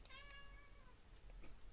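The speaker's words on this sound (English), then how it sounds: "That's my cat." A domestic cat gives a single drawn-out meow, faint and somewhat distant, followed by a few soft knocks and background noise.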